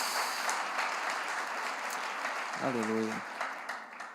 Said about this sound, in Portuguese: Você pode aplaudir Jesus, né?